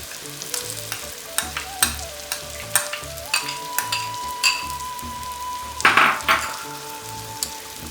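Lamb pieces for rogan josh sizzling and frying in a hot pan, with repeated stirring scrapes and a loud burst of sizzle partway through, a steady frying hiss underneath.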